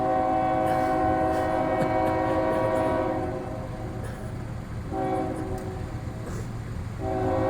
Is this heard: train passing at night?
yes